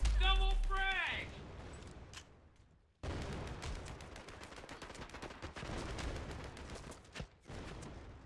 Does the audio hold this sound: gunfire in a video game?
yes